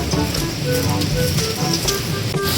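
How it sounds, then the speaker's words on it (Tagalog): Rain falls steadily in a forest near a river, a continuous hissing patter close by with a constant rushing background and no voices. "Yan na, umuulan na guys."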